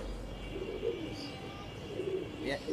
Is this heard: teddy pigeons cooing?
yes